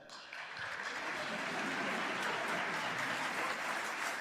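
Steady sustained applause from a television studio audience at a courtroom-style talk show, a dense even wash of clapping that swells in and holds throughout.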